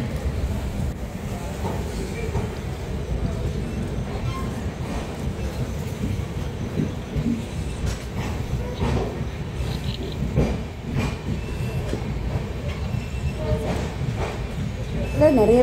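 A train pulls into Kundapura railway station at night, arriving late, with a steady low rumble of rolling wagons and scattered clanks and squeals carrying on throughout the stretch.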